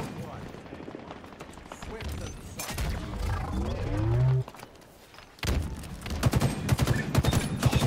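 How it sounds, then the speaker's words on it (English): Battle rifle (BR) shots in Halo Infinite: sharp bursts of gunfire mixed with other game sounds, growing louder and denser toward the end. "The BR feels so nice to shoot."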